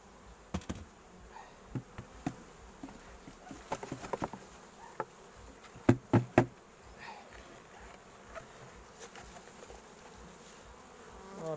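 Faint honeybee buzzing hums steadily in the background at an apiary during hive work, with scattered clicks and a few louder knocks or taps near the middle.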